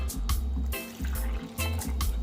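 Liquid poured in short bursts into a well of flour while mixing festival dough, several separate splashy pours with brief pauses between them, close and fairly quiet, no talking.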